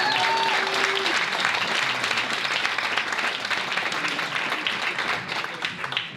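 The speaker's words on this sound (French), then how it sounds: "on peut l'applaudir encore une fois" An audience at an anniversary show applauds, a dense, loud burst of clapping that fills the space and slowly tapers, with a voice briefly over it at the start.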